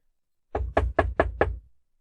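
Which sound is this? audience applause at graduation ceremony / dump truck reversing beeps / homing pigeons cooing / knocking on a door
knocking on a door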